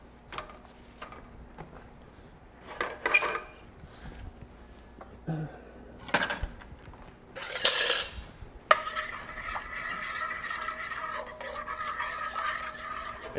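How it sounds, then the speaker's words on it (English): A spoon stirs softened gelatin sheets into hot liquid, scraping and clinking against the pot in short separate bursts, then a steadier faint swirling rub, close and alone. "you're just going to stir it in until it starts to dissolve"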